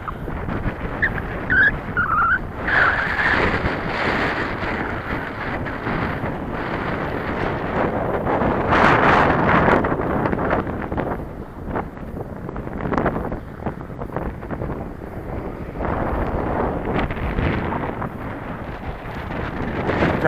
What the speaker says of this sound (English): Yeah, it's windy, all right.